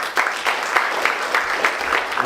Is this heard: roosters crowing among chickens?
no